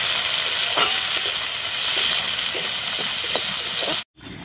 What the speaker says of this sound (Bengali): পেঁয়াজটা হালকা করে ভাজা হয়ে গেছে,